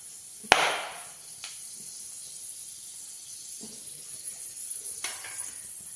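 Dried red chillies and mustard seeds hitting hot sesame oil: a sharp hissing burst of sizzle near the start, a second flare later on, and a faint, low crackle in between.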